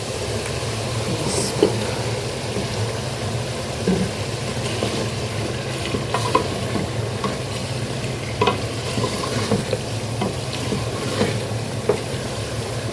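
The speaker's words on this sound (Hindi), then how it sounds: "अब हम इसमें चिकन और आलू ऐड कर लेंगे" Chicken and potatoes are stirred into a fried masala paste in a hot pan, giving a steady close sizzle with repeated scraping strokes of a spoon and occasional soft knocks against the pan, no speech.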